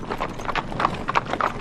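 Horse hooves clip-clopping at a steady walking pace on hard ground, close and clear, with no talk over them.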